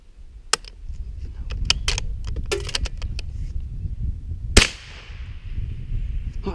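A single sharp gunshot, fired outdoors at a ground squirrel, cracks loudly and rings off into a fading echo, preceded by scattered clicks and handling noises.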